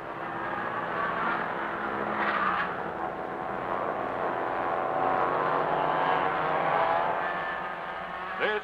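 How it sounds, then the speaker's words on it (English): Fleet of outboard racing boats roars down the Hudson River in a 1949 Albany-to-New York marathon, a continuous dense engine drone with a slight swell midway, distant and steady with no talk. "The mighty motors join in a thundering battle hymn as drivers call for all the power they have to give"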